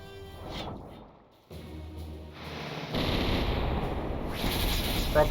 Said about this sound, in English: We're up to 7 cannons now. These guys just destroy whatever they decide to shoot.